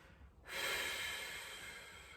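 One big, forceful exhalation rushes out close to the mic after a quiet moment, a long breathy whoosh that slowly fades.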